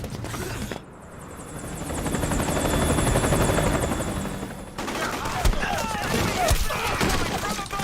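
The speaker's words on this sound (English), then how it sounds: "Chopper!" Helicopter rotor and engine roar in the stealth-action video game Metal Gear Solid 4: Guns of the Patriots, loud and sustained throughout, mixed with mechanical clatter and bursts of gunfire-like noise.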